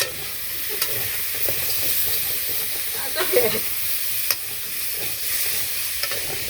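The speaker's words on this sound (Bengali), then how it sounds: "এই ভাইরাল বেগুন ভাজা" Eggplant slices fry in oil in a pan, a steady close sizzle with scattered pops and brief stirring scrapes, no talk.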